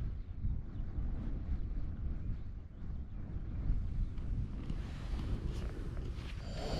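Strong wind blows steadily across a rainy lakeside wild camp in the Lakes, a loud, continuous rushing roar with heavy gusts buffeting close against the microphone throughout, no voices.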